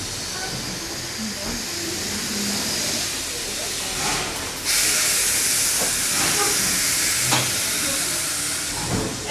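Steam locomotive at a heritage railroad hissing broadband steam as it comes to a stop in wilderness country, a loud continuous rush with a swell midway, under faint voices.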